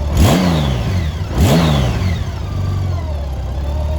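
A light aircraft engine drones steadily and loudly up close, with two quick rising revs early on before settling into an even hum at 2,000 rpm.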